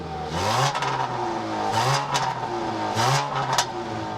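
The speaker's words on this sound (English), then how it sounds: "integrated dual exhaust that barks quite a bit when you rev the engine" A 2013 Dodge Dart GT with integrated dual exhaust revs three times in a row, each throaty rise and fall barking loudly and close by, with a faint clatter between pulls.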